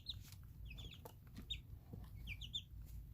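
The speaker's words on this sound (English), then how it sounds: "And here is our happy little peep squad." Several young chicks cheep and cluck in short, high bursts over a steady low hum, with faint scratching movement between calls.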